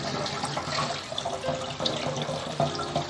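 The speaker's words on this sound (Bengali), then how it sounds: "দেখুন আমি চিচিঙ্গাগুলোকে ভালো করে ধুয়ে নিচ্ছি।" Snake gourds are washed under a running kitchen tap, with water gushing and splashing steadily, close by, as the vegetables are handled and rubbed in the stream.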